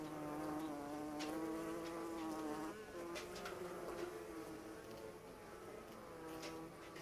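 Newly hatched honeybees, one and two days old, buzz at a bee institute in a dense, continuous hum of many wings that stays close and steady throughout.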